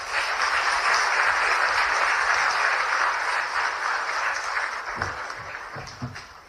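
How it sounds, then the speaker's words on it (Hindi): Loud, sustained applause from an audience at a formal Hindi-language event, a dense steady wash of clapping that slowly thins toward the end with a few scattered louder claps. "एक बार पुनः जोरदार तालियों से अभिनंदन।"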